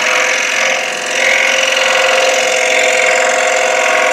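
A scroll saw runs steadily while cutting a workpiece, giving a loud, continuous buzzing whine. It holds close and even for about four seconds, easing slightly for a moment, with no talking.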